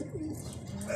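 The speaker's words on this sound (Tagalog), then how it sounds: "Dumating na yung lahat ng ibon natin na hinagis." Homing pigeons just returned to their loft coo softly in a few short, rounded calls close by, with no talk.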